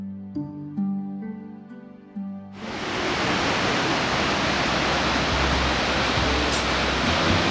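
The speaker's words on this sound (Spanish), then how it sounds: "Este parque cuenta con la cascada San Rafael, una impresionante caída de agua de 160 metros de alto y 14 metros de ancho" San Rafael waterfall, a 160 m high and 14 m wide drop in an Ecuadorian national park, roars as a dense, steady wash of falling water that swells in abruptly after quiet music and stays loud.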